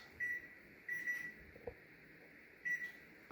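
A kitchen oven timer gives three short electronic beeps, spaced about a second apart and then after a longer pause, each tone bright and clear against a quiet room.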